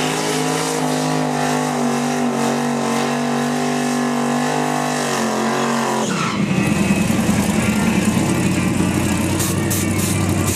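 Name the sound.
1998 Chevy Camaro drag racing run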